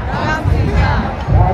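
A large crowd gathers on the Ganga riverbank in Nashik for Lord Ram's chariot procession, producing a loud, dense murmur of many voices with swelling surges of chatter.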